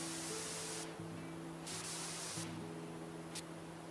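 A pressure washer in Powerwash Simulator hisses out a constant broad spray, steady and fairly close, with slight shifts in intensity and a faint tonal hum underneath.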